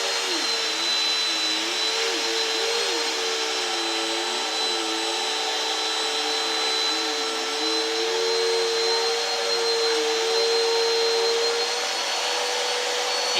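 A small child pushes a running vacuum cleaner across carpet at home; the motor drones continuously up close, its pitch wobbling and wavering as the load changes, with no talking.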